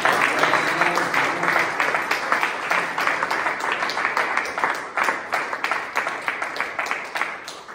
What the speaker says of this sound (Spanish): ¿Por qué no le das un fuerte aplauso al Rey de Reyes?